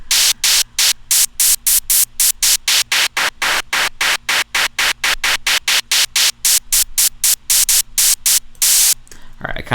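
Synthesized hi-hat hits repeat in a fast steady pattern, bright and noisy, with a low hum beneath; the tone and decay shift as a key is moved to tune it, short and long, low and high.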